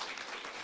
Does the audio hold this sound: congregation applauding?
yes